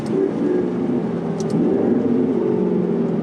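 A tuned 2012 McLaren MP4-12C's twin-turbo 3.8-liter V8 hums and revs steadily at close range, a deep continuous drone that swells slightly midway, with no talking.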